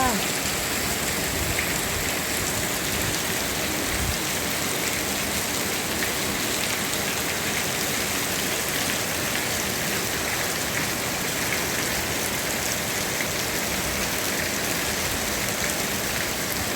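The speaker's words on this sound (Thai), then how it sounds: "วันนี้พาเพื่อนเพื่อนมาชมฝนตกนะคะ" Rain falling outside a house, heard from an upstairs room, a steady dense hiss of drops hitting surfaces that runs unbroken and fairly loud throughout.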